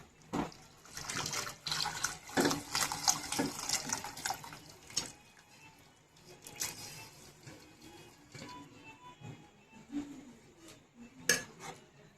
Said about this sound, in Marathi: यामध्ये आपण ज्या शेंगा शिजवल्या होत्या त्याचं पाणी असं ते ओतून घ्यायचे आपल्याला